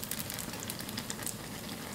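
Sugar-coated dough frying in hot oil, a steady, dense sizzle with fine crackling that holds at an even level for the whole stretch, with no voices.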